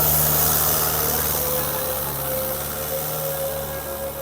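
Steady droning of a tractor engine running close by, a constant low hum with a faint whining tone, no talking.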